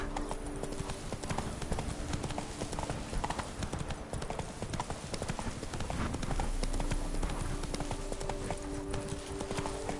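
Horse hooves clip-clop at a steady trot in The Witcher 3, with dense rhythmic thuds close up under a busy game soundscape and a brief spoken voice.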